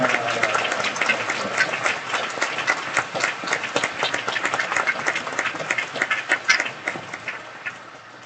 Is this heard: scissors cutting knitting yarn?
no